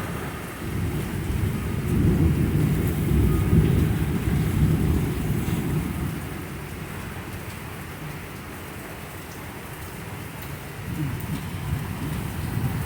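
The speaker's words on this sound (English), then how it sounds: "it's raining pretty hard." Heavy rain pours steadily during an August thunderstorm, a dense hiss of drops on surfaces, with low thunder rumbling under the downpour and swelling at the start and again near the end.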